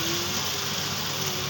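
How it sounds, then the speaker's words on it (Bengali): Spice paste with raw garlic frying in a pan, a dense continuous sizzle and hiss held at a steady level throughout, close and without talk. "একটু পেস্ট দিয়ে ভালো করে এটা ভাজতে হবে। মশলাটাকে কষতে হবে একটু আগে।"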